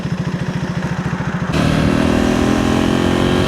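A KTM 390 Enduro R single-cylinder engine idles with a close, regular pulsing thump, then surges into a louder, sustained rev partway through.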